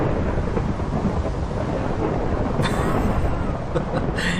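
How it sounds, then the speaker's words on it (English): A heavy Minecraft thunderstorm rumbles with continuous loud thunder and rain, with a few sharper crackles near the end, dense and close with no voices. "I hope you can still hear me over all of this thunder."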